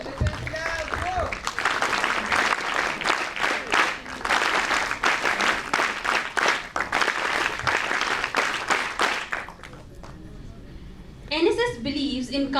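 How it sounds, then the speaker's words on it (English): At a National Integration Camp inauguration in Delhi, a crowd of NSS volunteers claps in a loud, rhythmic, patterned group clap for several seconds. A voice speaks briefly once it stops. "NSS clap goes"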